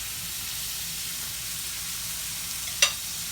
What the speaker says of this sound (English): Put the butter in there, lay the fish right on top of it, just like that.